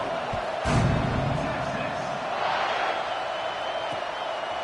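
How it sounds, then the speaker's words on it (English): Crowd noise buzzing in a football stadium at a Florida vs Texas game just before a kickoff, a broad steady roar with a brief louder swell near the start, all under a continuous murmur. "this crowd is buzzing after that last score"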